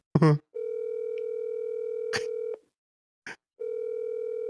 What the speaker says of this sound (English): calling my good friend Aaron.